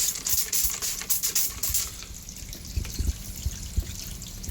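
Water poured over rock in a 125-gallon aquarium tank, a close trickling and dripping wash with soft splashes, a few louder drips near the end, no voices.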